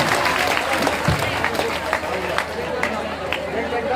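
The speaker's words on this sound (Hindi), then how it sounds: "सभी लोग जोरदार तरीके से ताली बजाएं।" Crowd applause at an outdoor Ramlila festival celebration, a dense clapping wash mixed with crowd chatter and babble, sustained throughout at moderate loudness.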